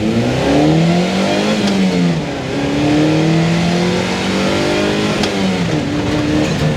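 The 140-horsepower engine of a small, light Opel Speedster sports car revs hard and climbs through the gears, loud and close, with rising pitch sweeps and brief dips at each shift.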